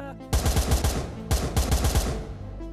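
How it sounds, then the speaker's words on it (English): Gunfire in the VR video game Blade and Sorcery Nomad comes as two loud, close bursts of rapid shots, each about a second long, separated by a brief pause. "I just missed a lot of shots."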